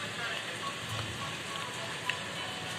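Steady rain falls in a residential neighbourhood outside an apartment, an even, moderately faint hiss of drops with no talking.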